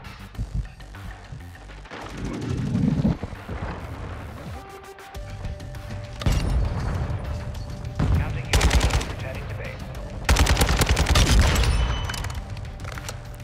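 Kastov 762 rifle fire in the video game Modern Warfare 2, loud bursts of rapid gunshots in several separate volleys with booming impacts, between quieter game ambience and a little talk.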